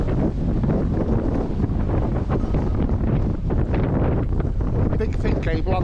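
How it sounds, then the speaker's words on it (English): Strong wind buffets the microphone outdoors at a house under renovation, a loud continuous roar with gusty surges throughout and no speech. "We've got wind instead."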